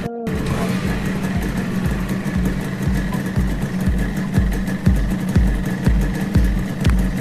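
A motorbike engine runs steadily close by, with regular low pulses repeating throughout, a continuous mechanical drone with a few sharper surges.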